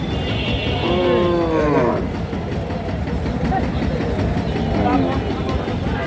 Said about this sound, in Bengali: চাষার কাছে একটা গাভী দেখতেছি